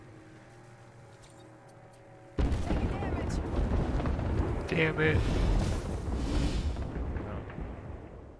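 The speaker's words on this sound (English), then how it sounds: "Airstrike danger close." Video game airstrike explosions erupt abruptly after a quiet stretch, a dense, loud barrage of booming blasts and rumbling debris lasting several seconds, with a brief muttered voice over the din.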